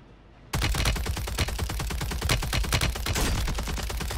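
Rapid, sustained automatic fire from an MCW SMG in the video game Warzone 3, a dense unbroken burst of shots starting abruptly after a brief quiet moment and continuing loud and close throughout.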